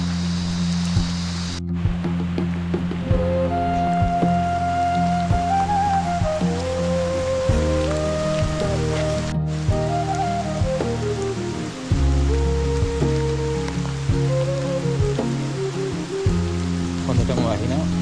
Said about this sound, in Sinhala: ඉන්නේ හොඳටම වහිනවා.